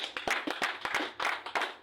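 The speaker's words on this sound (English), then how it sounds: "Clap for Jesus." Clapping from a church congregation during a worship service, sharp rhythmic hand claps in irregular bursts, fairly close and moderately loud with no talk over it.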